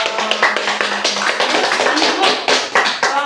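Audience clapping at a therapy session in a room, dense overlapping hand claps lasting a few seconds, fairly loud and close with a faint voice in the background.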